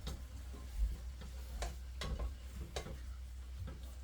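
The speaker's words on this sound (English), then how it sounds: "Now please keep stirring and hold this with your handle and give it a good stir." Lamb mince (kheema) is stirred in a pan, the spoon scraping and tapping in a loose rhythm of several clicks over a faint, quiet sizzle.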